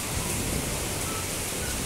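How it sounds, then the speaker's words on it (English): Heavy rain pours outside a shopping mall in Brunei, a dense, steady hiss that stays constant and fairly close throughout, with no voices. "It rained here in Brunei, like heavy rain."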